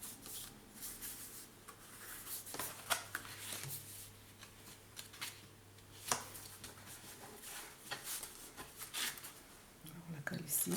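Paper being folded and creased by hand while making a scrapbooking album, soft rubbing and crinkling scrapes in an irregular rhythm, close and quiet, with intermittent talk alongside.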